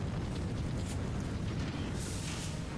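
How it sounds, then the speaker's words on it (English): A cannon-like blast in the video game Final Fantasy XIV Heavensward comes through as a deep, sustained rumbling boom that fills the whole moment, loud and without speech over it. "Sounds like someone fired a damn cannon or something."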